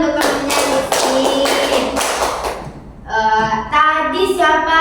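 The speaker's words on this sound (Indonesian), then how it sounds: "tepuk tangan untuk temannya Yusi" Classmates in a school classroom clap for a fellow student, a brief burst of close, loud applause lasting a couple of seconds, followed by children's voices talking.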